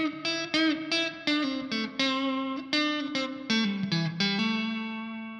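An electric guitar played through a reverb pedal picks a run of distinct notes and chords, each attack trailing off into a lingering wash, with the last chord ringing out.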